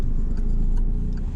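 A car engine pulling steadily under acceleration during a driving lesson, a low continuous drone heard from inside the cabin, brief and close with no talk.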